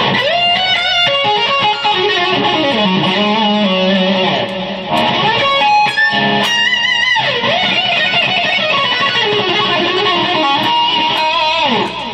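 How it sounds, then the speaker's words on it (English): An overdriven electric guitar lead through a Tube Screamer-style pedal with echoing delay, sustained bending notes ringing out loud and continuous, with a brief dip midway. "this is my solo preset, which is the lead channel again, and it comes on with the tube screamery pedal"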